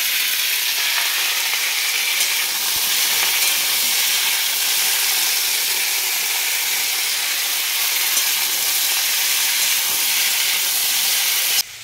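Steady, dense sizzle of besan-battered pumpkin and eggplant fritters deep-frying in hot oil, a continuous close hiss filling the whole stretch with no talk over it.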